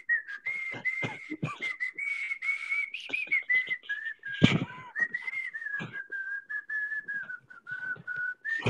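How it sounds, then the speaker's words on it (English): Someone whistles a wavering tune up close, the melody broken by short pauses, breaths and clicking noises. "I'm learning how to whistle"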